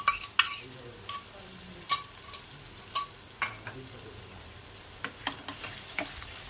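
A spoon stirs and scrapes a cashew and raisin paste frying in a pan for Bengali egg curry, giving repeated sharp metallic scrapes at an irregular pace over a soft, steady sizzle.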